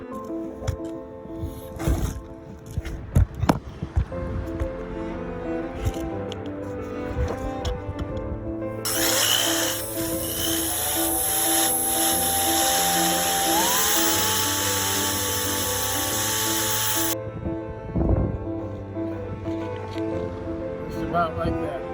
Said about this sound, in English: the idea is to drill a hole through there so that these two pieces can be joined